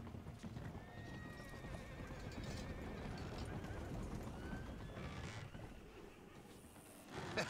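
Hooves clip-clopping steadily at a walking pace in the video game Red Dead Redemption 2, with a horse whinnying and faint wind in the background.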